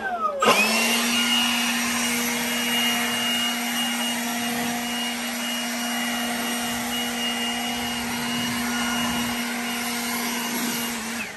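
A multi-purpose 450 CFM electric blower drying a C8 Corvette after a wash, starting up into a steady loud whining hum with a constant tone, running continuously before shutting off.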